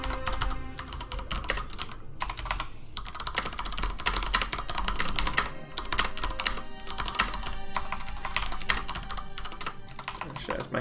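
Rapid, clattering keystrokes on a computer keyboard during a World of Warcraft session, bursts of clicks with brief gaps over faint game sounds in the background.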